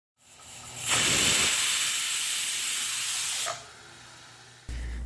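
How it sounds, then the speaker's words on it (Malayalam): A pressure cooker on the stove, used for cooking chicken manthi, lets out one loud, sustained hiss of escaping steam that fades abruptly, leaving a quieter background with a soft thump near the end. "കുക്കർ ഒരു വിസിലടിച്ചപ്പോൾ തന്നെ ഫ്ലെയിം ഓഫാക്കിയിട്ട് അതവിടെ മാറ്റി വെച്ചിട്ടുണ്ട്."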